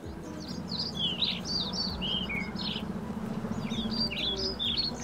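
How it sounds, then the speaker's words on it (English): Many small forest birds chirp and tweet in quick overlapping bursts over a steady low background rumble, fairly faint and busy throughout. "all of the bird species in this forest get along in utmost harmony"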